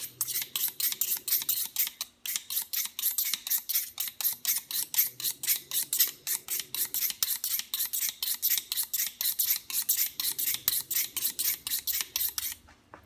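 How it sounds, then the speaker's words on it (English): A dull paring knife is drawn against a honing steel in quick, evenly spaced scraping strokes, close and crisp, keeping up a steady rhythm for about thirteen seconds with one short pause near the start. "Hone it a little bit."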